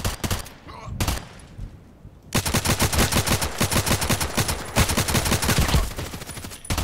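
Rapid automatic gunfire from the online shooter Contract Wars, loud dense bursts of shots following a few scattered single shots, continuing almost without pause to the end.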